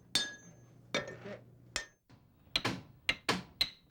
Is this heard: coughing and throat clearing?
no